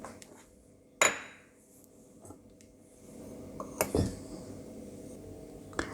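Chickpea, mung and rice flours being mixed together in a bowl, with a couple of sharp utensil clinks against the bowl and soft scraping and rustling between them, close and without talk.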